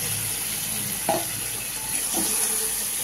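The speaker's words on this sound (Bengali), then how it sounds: "দিয়ে একসঙ্গে আবার কষানো হবে এবার ভালো করে।" Mushroom masala with butter stir-fried in a pan gives a soft continuous sizzle, with a couple of brief scraping stirs of a spoon against the pan, close and fairly quiet, no speech.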